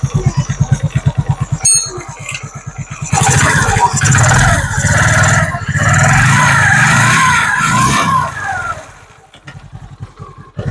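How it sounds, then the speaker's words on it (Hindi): TVS XL100 moped engine running after a piston ring repair: a close, rhythmic putter at first, then revving up into a loud, sustained whine before dropping back, with a voice talking over part of it. "तो इस तरह मैं आप लोग को साउंड सुनाऊंगा गाड़ी का।"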